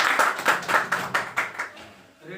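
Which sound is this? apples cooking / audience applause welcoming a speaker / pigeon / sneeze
audience applause welcoming a speaker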